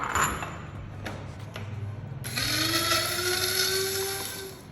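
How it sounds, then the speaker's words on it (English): Electric spice grinder whirring over bouillon and salt: a handling clatter, then the motor starts midway and holds a steady rising whine, close and loud, no talking. "So I'm going to transfer that to my spice grinder just to make sure that everything is nice and fine."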